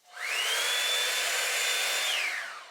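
Revlon Air Straight hair tool blowing air on thick curly hair, a single whooshing motor hum that rises in pitch at switch-on, holds steady about two seconds, then winds down.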